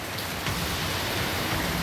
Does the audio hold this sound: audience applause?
no